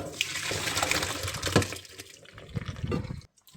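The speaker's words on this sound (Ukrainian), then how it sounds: "Зараз проціжую, стіжую на друшлячок." Water from boiled wild mushrooms pours into a colander as a steady, close splashing rush that lasts about three seconds, then cuts off abruptly, with no talking.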